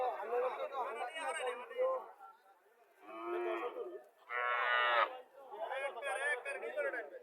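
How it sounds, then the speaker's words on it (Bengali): A local cross-bred dairy cow at a village cattle market lows in two close, drawn-out moos, with murmured crowd chatter and market hubbub before and after. "এখানে একটা দেশি গাভী"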